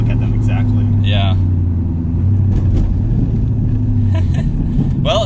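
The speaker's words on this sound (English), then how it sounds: "So I'll give it a little bit more gas." A 1,000-horsepower turbocharged Ford Mustang GT gives a loud, steady low engine rumble from inside the car as a little more gas is applied, with occasional faint higher sounds over the drone.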